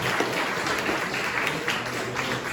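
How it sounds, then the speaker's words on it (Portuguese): A church congregation at a couples' retreat claps for Jesus, a dense and even patter of many hands held at one level for a couple of seconds. "Vamos dar uma salva de palmas para Jesus?"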